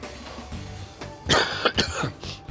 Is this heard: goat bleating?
no